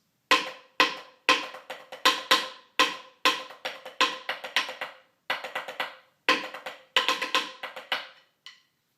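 Snare drumline playing the Apollo cadence, with rim shots and accents: a steady run of sharp, crisp strokes in grouped rhythmic patterns, loud and close, alone with no voices.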